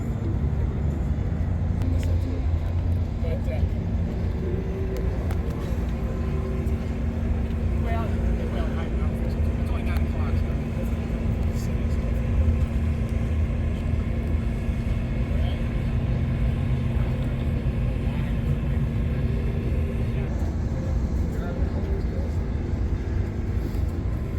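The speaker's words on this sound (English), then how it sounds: "Sucker's a small block. You heard how rowdy it was." Mopar small block V8 with a vinyl top rumbles steadily at a car show, a continuous low idle drone with outdoor crowd noise and people talking throughout.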